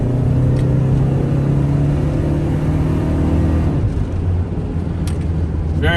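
A 1989 Plymouth Voyager SE Turbo minivan accelerates hard with a steady, loud engine drone and rumble from inside the cabin, pitch shifting near the end.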